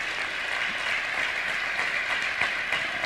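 A crowd in a gym at a 2008 high school basketball game against Haddonfield claps and cheers for a retiring coach, a dense, steady wash of applause that holds throughout.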